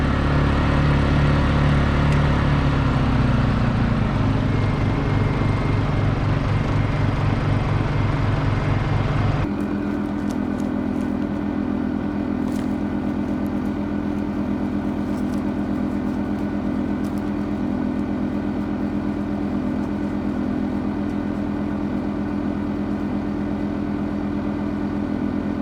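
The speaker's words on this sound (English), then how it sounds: "we put all of our generators down here" Honda generators run at a winter tent campsite, giving a steady, continuous engine drone that shifts to a smoother, even hum partway through and holds there, with no talk.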